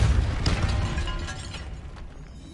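The Depulso spell from Hogwarts Legacy lands as a loud rumbling burst with crackling, clattering debris that gradually fades over a couple of seconds.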